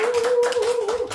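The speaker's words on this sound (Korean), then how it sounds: "우리 환영의 박수" A church congregation gives a brief round of welcoming applause for returning members, with a few bursts of clapping over a sustained tone from the room's sound system.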